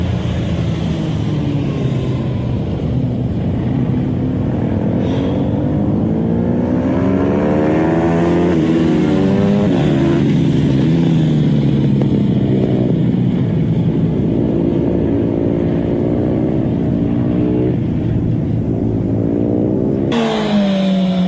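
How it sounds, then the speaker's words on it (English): A motorcycle rides through a series of S-bend corners, its engine droning steadily with rising and falling pitch as it revs and shifts through the curves, loud and continuous with no talking. "How does the rate you flick the bike affect your line in any series of corners, like these S's?"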